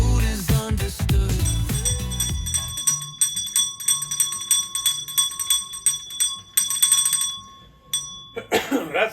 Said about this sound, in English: That's the ring for a beer bell, so you know what time it is.